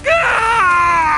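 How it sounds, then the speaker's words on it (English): A high, harmonic anguished scream or wail, like a distressed cry, sounds loud and close and holds steady for about a second in the Witcher 3 Hearts of Stone game on PS5. "My ears wither from the screams"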